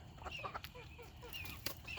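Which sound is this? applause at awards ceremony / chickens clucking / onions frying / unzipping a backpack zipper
chickens clucking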